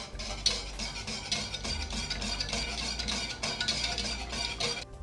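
A spoon or whisk mixes ingredients in a bowl while iftar food is being prepared, making a steady run of scraping, clinking strokes that stays close and fairly loud throughout, with no talking.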